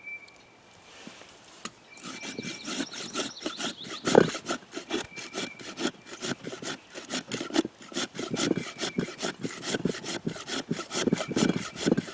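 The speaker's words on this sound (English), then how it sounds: "one option I like for processing is a hand scraper or planer" A hand scraper shaves resin-rich fatwood outdoors, making steady, close, rhythmic rasping strokes that repeat for about ten seconds after a short quiet start.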